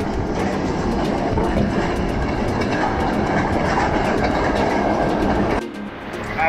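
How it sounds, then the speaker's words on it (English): A train in Osaka rumbles steadily past with a dense clattering roar and rhythmic wheel clicks, then the noise drops away abruptly near the end. "That's the train we could have taken."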